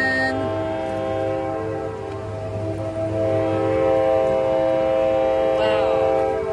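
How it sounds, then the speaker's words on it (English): Train horn blaring with sustained harmonic tones as a train pulls away, loud and continuous with rail rumble beneath, a voice briefly heard. "Oh, train's leaving. The train's leaving."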